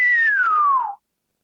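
A person whistles to imitate an ear-piercing whistle heard in the woods: one loud, clear, close tone gliding slowly downward for about a second, then silence.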